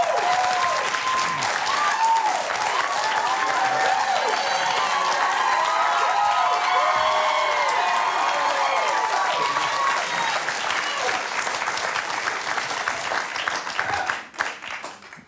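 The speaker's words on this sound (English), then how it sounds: "That's some Bob Newhart type applause for you, man." Studio audience applause greets an actor arriving on a Toronto late-night talk show, steady dense clapping sustained for about fourteen seconds before tapering off abruptly at the end.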